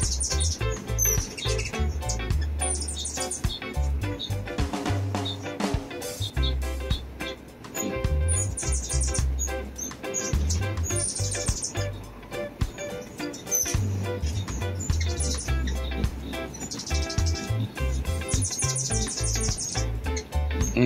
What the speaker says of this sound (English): That was a bird on the ground.